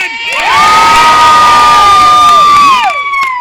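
A street-show audience cheers and whoops loudly in one sustained burst that swells, holds for about two seconds and fades, with shrill children's voices standing out in the crowd.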